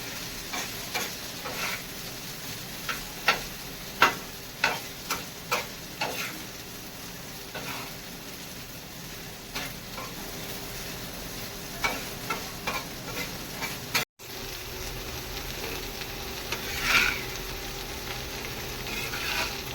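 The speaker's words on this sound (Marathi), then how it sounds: "भेंडी तेलामध्ये चांगली परतली गेली पाहिजे" Okra sautés in oil in a pan, a constant sizzle broken by frequent spatula clicks and scrapes early on that grow sparser later, heard up close with no talk.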